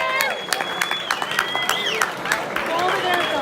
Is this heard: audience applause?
yes